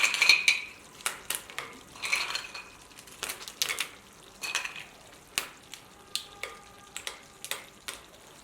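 Cleaned clams tipped into a clay pot, a close, irregular run of sharp shell clacks and clatters lasting several seconds, with no voices.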